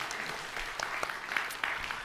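Congregation clapping together in a church during a Sunday morning worship service, a steady, even wash of applause at moderate distance with no voices over it.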